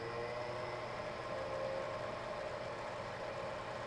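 The Leslie speaker motor of a Hammond B3 organ spins up, a faint, steady mechanical hum with a constant whirring tone heard on its own.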